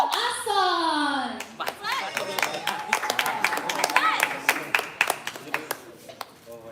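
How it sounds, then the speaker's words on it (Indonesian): Audience applause breaks out after a performance at a dance event, a burst of dense hand clapping over several seconds following a voice at the start, with scattered claps and chatter tapering off toward the end. "Berikan tepuk tangan yang meriah untuk judul karya Ason."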